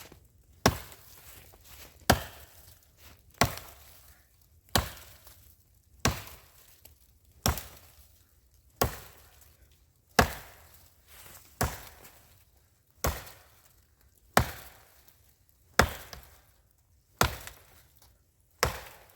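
A Cold Steel War Hawk axe chops into wood in a steady series of about fourteen sharp, solid thunks, one every second or so, each ringing briefly before the next strike, with no one speaking.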